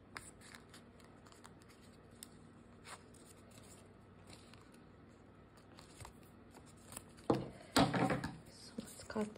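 Scissors cut paper for a small CD sleeve, with faint snips early on and then a louder burst of crisp cutting and rustling near the end, close by.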